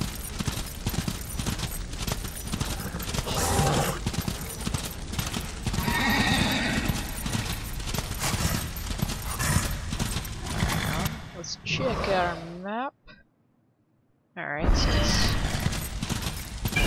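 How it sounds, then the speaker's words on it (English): A horse in the video game Darksiders gallops with rhythmic clip-clop hoofbeats and whinnies over a dense, loud game soundscape, which drops out briefly into near-silence before resuming. "ride the horse"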